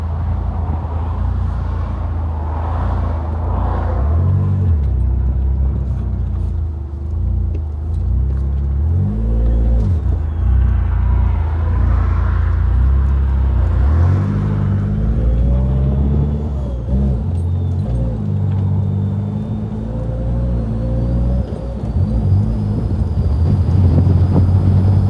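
A Mercedes 190E with a swapped ZF 8HP automatic gearbox drives along, its engine droning low and heavy as it accelerates and shifts through gears, with wind rush throughout, recorded from inside the car.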